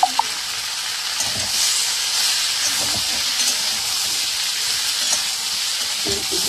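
Ginger and garlic frying in a pan for a mixed-vegetable and dried-fish curry, a steady close hiss of sizzling oil with occasional soft stirring scrapes and no talking.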